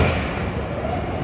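A PATH train runs through the tunnel beneath the Hudson River toward New Jersey, giving a loud, dense, steady rumble and roar heard from inside the car with no voices.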